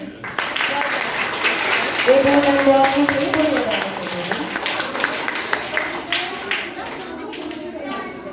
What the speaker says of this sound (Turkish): Kendisini bir alkışlayalım